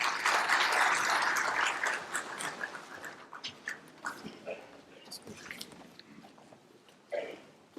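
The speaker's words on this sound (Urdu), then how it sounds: "ایک دفعہ پھر بھرپور تالیاں صدر صاحب کے لیے" Audience applause at an IT awards ceremony held at a presidential residence, a loud burst of clapping in the first two seconds that thins into scattered claps and faint crowd noise.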